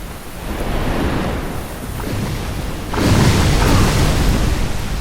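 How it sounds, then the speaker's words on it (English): Water blasts from a Hydra in Darkroot Basin in Dark Souls land as booming, surf-like crashes of roaring noise, one swell building early and a louder surge hitting around the middle and rumbling on. "See those water blasts there?"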